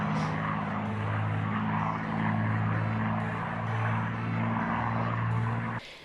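Low pass by an aerobatic propeller plane at an air show: a loud, steady engine drone with strong harmonic bands that swells slightly as it sweeps close, then cuts off abruptly at the end.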